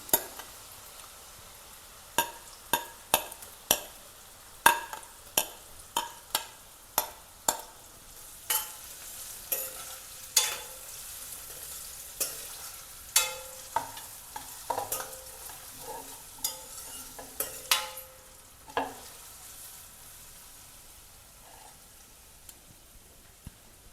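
Pointed gourd (parval) fries with garlic and green chilies in a pan, a low steady sizzle broken by about two dozen sharp spatula scrapes and knocks at a fairly regular pace, close and clear with no talking.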